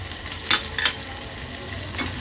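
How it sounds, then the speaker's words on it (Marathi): Finely chopped onion sizzles steadily in a hot garlic tempering for an Agri Koli-style black pea curry, with a couple of sharp spoon scrapes near the start and a softer one near the end; no one speaks. "कांदा व्यवस्थित शिजवून घ्यायचा आहे"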